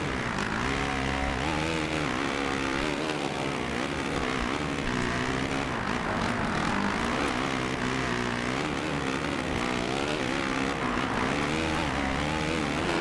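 A motocross bike engine in the MXGP 2 racing video game drones and revs continuously, pitch rising and falling through turns, loud and steady with no speech.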